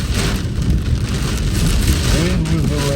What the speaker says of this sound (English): Wind with the rain.